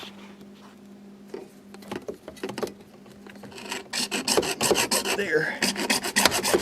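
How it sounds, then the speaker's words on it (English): A hand saw cutting through PVC pipe, rapid rasping strokes that start faint and grow louder and denser toward the end, close by, with a brief spoken word. "I don't have a PVC cutter, but I do have a saw, so that's what I'm going to do. I'm going to use my saw"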